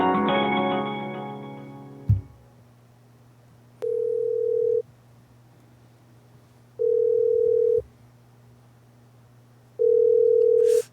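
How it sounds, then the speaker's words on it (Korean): A telephone ringback tone sounds while a call is placed, with three evenly spaced, steady one-second tones about three seconds apart over quiet line hiss, after a short burst of other sound at the start. "김동완 의원에게 다시 한번 전화를 제가 걸어보겠습니다"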